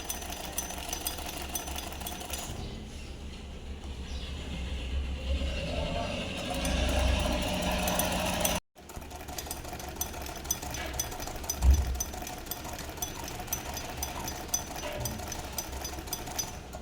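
Sewing machine stitching a straight-cut fabric strip, a steady mechanical whir with rattling, a brief stop midway, then running again.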